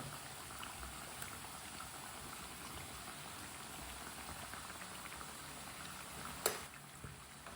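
Aloo tikki sizzle gently in oil over a low flame, a soft, steady bubbling crackle with one brief clink near the end and no talking.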